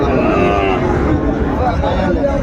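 Sindhi breed cattle calf at a busy livestock market in Dinajpur, moos blending into a dense, loud crowd din with people talking throughout.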